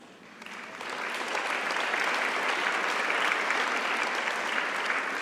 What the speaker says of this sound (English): we're in a room full of cheering friends and fans